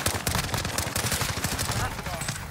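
Rapid, loud automatic gunfire in a multiplayer shooter game, dense overlapping bursts with no pause across the whole stretch, close and harsh.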